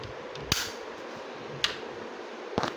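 Toy cap gun going off three times, sharp sudden cracks spaced about a second apart, the last a quick double snap, each standing out loudly against a quiet background.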